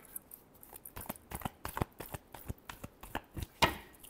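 Tarot cards shuffled by hand make a quick run of soft, papery riffles and slaps that speeds up toward the end, quiet and close with no talking.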